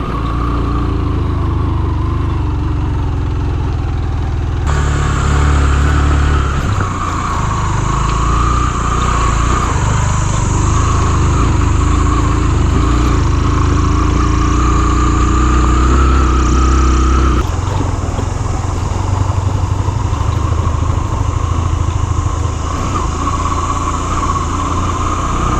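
Motorcycle ridden off-road over big rocks on a jungle trail toward a forest rest house, its engine loud and close throughout, revving and labouring in uneven surges with no talk.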